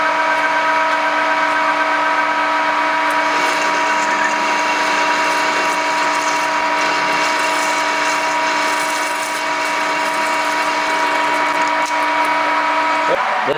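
A power tool cuts through thick metal washers for a Cub Cadet restoration, giving off a loud, steady whine that holds unbroken from start to finish.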